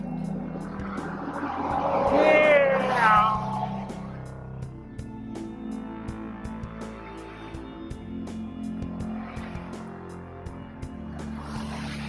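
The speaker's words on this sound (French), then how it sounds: "Attendez le camion qui arrive en plus" A truck rumbles closer along a Japanese road, passing a cyclist on a bike trip, with a steady low engine drone and a brief louder swell near the start, then continuing road noise and faint clicks.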